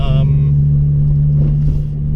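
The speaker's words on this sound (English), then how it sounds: "This is the K20A2 engine, which was a JDM spec" A 2004 facelift EP3 Honda Civic Type R with a JDM-spec K20A2 engine runs steadily, a loud continuous low drone with a brief higher whine at the start and no speech heard.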